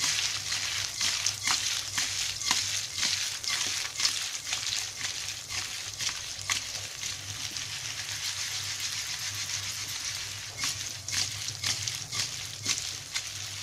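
Lauki muthia pieces are stirred and tossed in a pan, giving a soft sizzle with repeated light scraping and clinking strokes at an irregular rhythm, close and moderately quiet.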